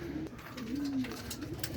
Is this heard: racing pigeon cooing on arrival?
yes